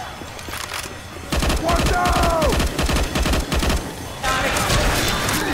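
Rapid bursts of gunfire in the modded Left 4 Dead 2 shooter game crackle loudly in clustered volleys, with a brief gap before another burst and a voice speaking over the shots.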